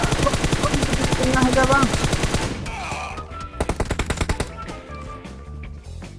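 Rapid automatic gunfire in PUBG Mobile rattles in tight, rhythmic bursts, loud at first and then in shorter volleys, while players talk over the shooting.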